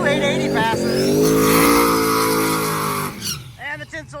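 A race car at a drag strip, its engine revving loud and close in a sustained roar before dropping off, with voices talking over the end.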